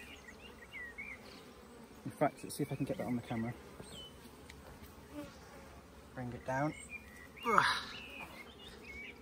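Honey bees drone in a soft, steady hum around an open hive frame during an inspection, feeding on freshly broken honeycomb, with someone talking quietly nearby.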